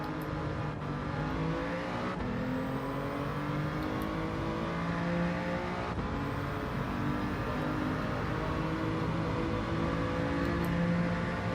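A race car engine from the Gran Turismo video game drones steadily and loudly throughout, its pitch sweeping up and down through gear changes and braking without pause.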